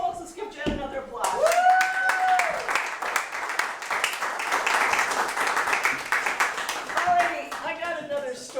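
Audience applause at a charity hour event, a burst of clapping from a crowd that carries on steadily for several seconds, with a voice talking over it near the start and again at the end.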